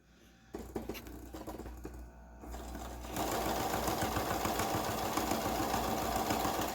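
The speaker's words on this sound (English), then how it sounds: "you can just go and sew a straight line" A sewing machine stitches a straight line without back stitching, starting with a few uneven bursts, then settling into a fast steady mechanical whirr with rapid needle patter, close and clear, with no voices.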